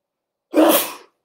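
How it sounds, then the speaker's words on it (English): A single sharp sneeze from a man, close and loud, bursting out suddenly and fading within half a second amid otherwise silence. "I'm going to sneeze."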